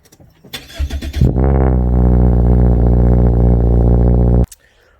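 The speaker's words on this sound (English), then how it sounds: "I wanted to show you guys a little bit of a cold start, see what the engine sounds like first thing in the morning" A 2017 Subaru Impreza hatchback with a muffler delete cold starts: brief cranking, then the engine catches with a sharp rise into a loud, steady, droning idle before cutting off abruptly.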